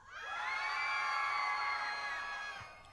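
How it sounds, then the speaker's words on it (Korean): A concert crowd on the right side of the venue at the Jeju Eco Music Festival shouts and cheers in one swelling roar that holds steady for a couple of seconds and then fades, heard from a distance. "우리 희네 오른쪽에 계신 분들 얼만큼 좋으신지 한번 소리 질러"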